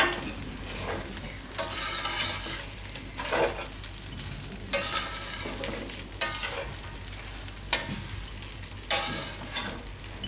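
Poha and suran stirred in a pan, sizzling steadily while a spoon scrapes through in repeated strokes every couple of seconds, close and clear with no voices.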